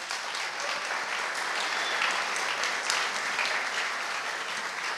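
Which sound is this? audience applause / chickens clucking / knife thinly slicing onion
audience applause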